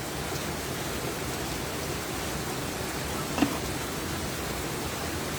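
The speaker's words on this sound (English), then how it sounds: "now it's like pouring rain" Pouring rain falls steadily outdoors, a dense, even hiss that stays constant throughout with one brief tap midway, nobody speaking.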